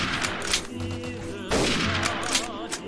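Rapid gunfire rattles through a World War II battle in the Mount & Blade: Warband mod, with a dense volley of shots at close range and a heavier burst at about the midpoint.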